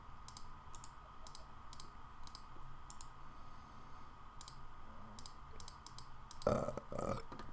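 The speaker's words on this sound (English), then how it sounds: "I got the burps, my dude." A man burps twice near the end, the second a longer rumbling belch, after a stretch of light, scattered clicking that sounds like a keyboard and mouse.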